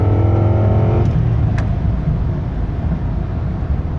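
A 1996 Lincoln Mark VIII accelerates at full throttle from about 60 mph, a loud, steady engine roar heard from inside the car and holding strong from start to finish, with no talk.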